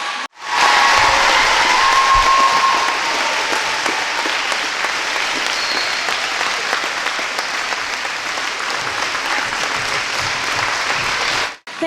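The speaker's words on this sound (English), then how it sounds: "Principal Young, Superintendent Frazier, could you stand for a round of applause?" Loud, sustained applause from a large crowd at a school assembly honoring teachers, steady clapping that fills the space for several seconds before cutting off.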